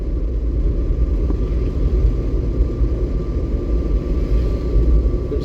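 Car cruising in fifth gear during a driving lesson on a road, a steady, continuous engine and road rumble from inside the cabin, unbroken and fairly loud throughout.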